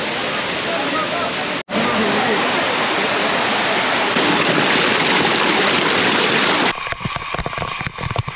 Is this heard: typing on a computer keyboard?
no